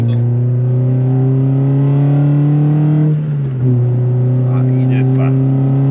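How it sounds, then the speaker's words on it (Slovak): A Toyota Corolla TS drives with its exhaust valve open, giving a loud, steady engine drone that dips briefly at a gear change and then pulls on. Someone speaks briefly over it. "klapka otvorená a vyskúšame teraz s otvorenou klapkou, už je to hneď počuť"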